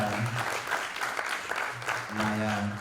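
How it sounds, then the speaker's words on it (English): An audience at a Guam Museum talk applauds steadily, a dense wash of clapping from many hands that holds throughout. "Give them a round of applause."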